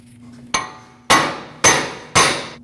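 A hammer strikes a wheel hub assembly on a 2014-2023 Jeep Cherokee front axle four times, loud ringing metallic blows about half a second apart, each decaying quickly, with no talking.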